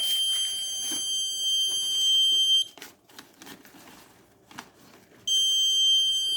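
A shrill, high-pitched Arduino buzzer alarm on a garbage bin monitor sounds loudly and continuously when the bin is full, stops for a few seconds with quiet handling noises, then starts again.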